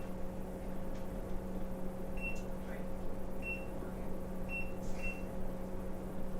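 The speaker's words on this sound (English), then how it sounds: "I gotta set my timer." A kitchen timer gives four short, clear beeps spaced about a second apart while it is set, over a steady appliance hum in a home kitchen where bacon is cooking.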